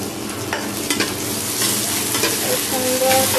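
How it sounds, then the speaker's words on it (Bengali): Onions frying lightly in a pan with a little spice paste, for a minced-meat momo filling, sizzle steadily and loudly, with a spatula stirring now and then and no voices. "পেঁয়াজটা বেশি ভাজা ভাজা করবো না, কিন্তু হালকা একটু ভাজা ভাজা করবো"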